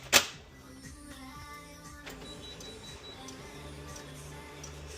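A newer inkjet-style printer runs just after a cartridge change, starting with a sharp click, then a steady pattern of mechanical whirring and stepping ticks at moderate volume, with no talking.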